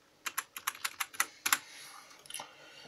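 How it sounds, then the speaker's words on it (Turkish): Keys clack on an LED-lit mechanical keyboard, about ten crisp strokes in a quick, uneven run followed by a few fainter taps, close and alone with no talk. "Ledli ve mekanik. Evet led mekanik klavye."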